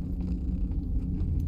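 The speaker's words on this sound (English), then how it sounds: "Onward to the purring cat." A cat in The Baby in Yellow video game purrs in a close, loud, steady low rumble that lasts about a second and a half, with no speech over it.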